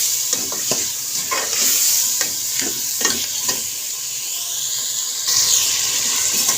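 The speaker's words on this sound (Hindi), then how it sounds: "आलूओं को भी अच्छी तरीके से भूनना है, तकरीबन 5 मिनट तक आलूओं को भूनना है" Potatoes for aloo bhujia sizzle in a pan while a spoon stirs them, making repeated scraping strokes over a continuous hiss of frying. The sound is close and fairly loud, with no talking.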